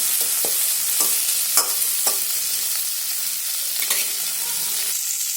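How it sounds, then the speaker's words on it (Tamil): Tomatoes sautéing in oil for idli kurma, a steady close sizzle and fry throughout, broken by a few sharp scrapes and clinks of a spoon stirring the pan. "தக்காளி நல்லா வதங்கணும்."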